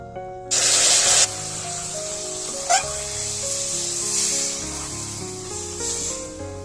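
Water poured into hot caramel in a pan sets off a loud, hissing sizzle that bursts up suddenly and then fades to a steady bubbling simmer, with a short sharp spit partway through, close by and without talking.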